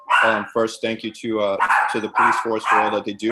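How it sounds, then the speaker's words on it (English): Dogs bark in the background during a police reform community meeting call, partly masked by a person speaking continuously in the foreground. "Sorry for the dogs in the background."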